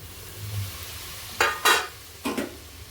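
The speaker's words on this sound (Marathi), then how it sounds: "आपला मसाला छान परतून झालेला आहे." Masala paste of onion, garlic and spices sautéing in hot oil with mustard seeds, a faint steady sizzle broken by a few sharp scraping stirs of a spoon against the pan.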